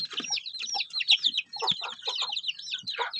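Two-week-old Heritage and Shamo chicken chicks from an egg incubator peep continuously in a busy overlapping chorus of high chirps, close by, with a few lower clucks mixed in.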